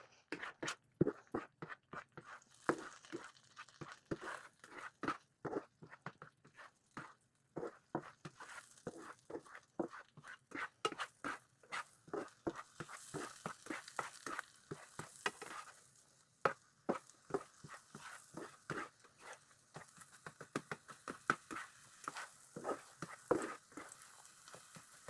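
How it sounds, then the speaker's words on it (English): Eggs being stirred continuously as they scramble in a pan, a steady run of quick, irregular scraping taps with a faint sizzle underneath, close and fairly quiet throughout. "But if not, you just continuously stir."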